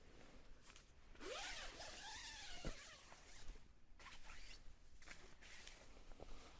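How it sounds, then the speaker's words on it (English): A NatureHike Yunchuan Pro tent door zipper is drawn in several quick, close strokes, a sharp rasping zip with short pauses between pulls, heard alone. "the door zips almost like it's completely off"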